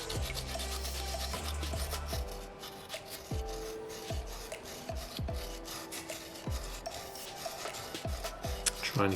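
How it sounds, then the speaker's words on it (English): Sandpaper rasps against a small soapstone butterfly carving in repeated back-and-forth strokes, a close, gritty scraping with an uneven rhythm and no voices. "Trying to keep my sandpaper as straight as possible, just to try and keep that groove nice and centered along there"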